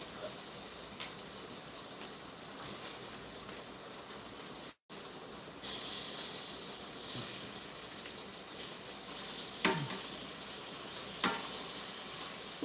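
Oil sizzles faintly and steadily in a frying pan for several seconds, with a short gap partway through and a couple of sharp clicks or taps near the end.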